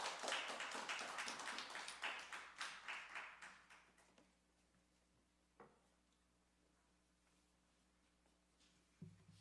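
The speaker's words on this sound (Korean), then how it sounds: "다시 한번 박수해 주세요." A small church congregation claps in a quick burst of rhythmic, fairly close applause that fades out after a few seconds, leaving a quiet room with an occasional knock or thump.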